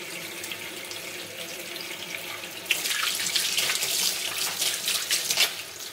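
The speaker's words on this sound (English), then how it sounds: "take them off the stove and strain all the water off them" Water from a kitchen tap runs steadily into a sink, turning to a louder, splashing pour partway through as a pan of boiled potatoes is drained, with no voices.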